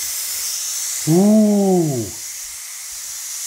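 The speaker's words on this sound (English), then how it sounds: "You slowly release the pressure valve." Steam hisses from a pressure cooker as its valve is slowly released while cooking chicken and greens, a steady loud hiss with a brief rising-falling whistle-like tone in the middle and a short exclamation from a voice.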